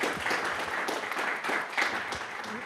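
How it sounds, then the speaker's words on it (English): Audience applause for a speaker at a health policy panel event, a steady patter of many hands clapping in a room, fairly close and continuous throughout. "Round of applause for former Deputy Secretary Eric Hogan"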